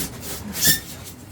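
A knife rasps and scrapes through foam packing while a carbon-fibre RC plane kit is unboxed; a brief, louder scraping swell sits over a faint, rough rubbing background, with no voices.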